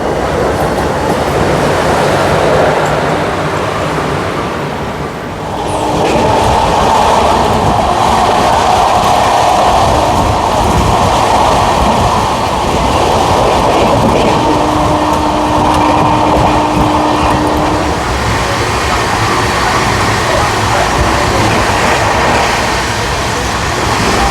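The 13125 Kolkata–Sairang Express runs at high speed, nearly 100 km/h, with a loud continuous rumble and roar of the coaches on the rails. The noise fills the whole stretch, and no one speaks over it.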